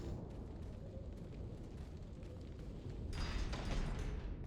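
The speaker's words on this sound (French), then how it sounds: "faudra utiliser les grenades" A grenade goes off in the 2005 Resident Evil 4 video game, a rumbling blast that swells out of steady game noise about three seconds in and holds as a broad roar.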